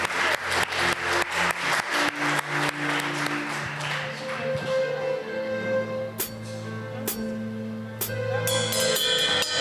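Church congregation clapping together during a Sunday worship service, a steady rhythmic clap running throughout, loud and close, with sustained organ or keyboard chords and a few bright tones ringing over it.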